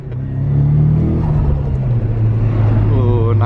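A JDM Nissan S15 Silvia accelerates, its engine droning loud and close from inside the car with pitch rising steadily through the pull.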